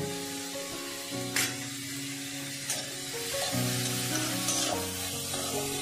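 Grated carrots sizzle and fry in a pan for carrot laddu while a utensil stirs them, scraping in several distinct strokes. The frying is close and steady, with no one speaking.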